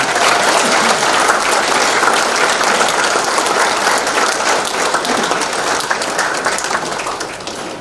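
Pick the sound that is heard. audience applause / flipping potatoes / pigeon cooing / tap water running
audience applause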